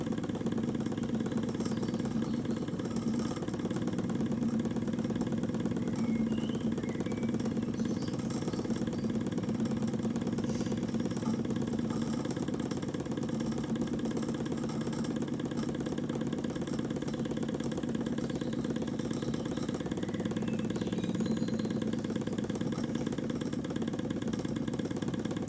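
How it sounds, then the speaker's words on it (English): A small Wilesco D16 toy steam engine runs steadily on its own with a constant mechanical hum and chuff, fairly quiet and close, with no voices. "I'm going to shut now so you can hear the engine run."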